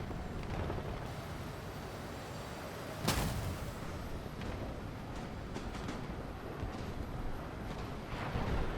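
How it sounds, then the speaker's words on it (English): A missile launches from a Su-25T attack jet in a combat flight video game, heard as a sudden loud whoosh-blast over a steady engine rumble, followed by a continuing roar. "I'm just gonna preemptively launch a missile before even getting a lock on him"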